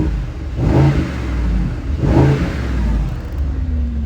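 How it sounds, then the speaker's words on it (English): A 2024 Mercedes-Benz SL63 AMG revs hard twice with its exhaust in loud mode, two close, loud surges of engine roar with a droning idle between them, in a hotel parking lot. "Let's put this exhaust in silly mode."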